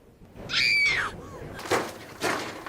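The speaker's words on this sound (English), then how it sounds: "hear the other girl screaming a few times, courtesy of the same stock scream effect" Stock sound effect of a girl screaming in the video game Pass Thru, a short shrill scream followed by two more brief cries, fairly faint and alone.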